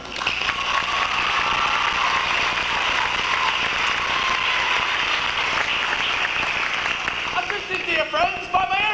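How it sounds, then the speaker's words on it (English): Theatre audience applauds a performer at a Music Hall-style stage show, a dense, steady wash of clapping that carries loudly throughout and thins near the end. "a warm round of applause for Mr. Nick Tricker and Son"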